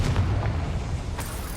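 A Confringo fire spell detonates in Hogwarts Legacy, a dense booming blast with a rumbling low tail that holds steady, then a second sharper burst near the end.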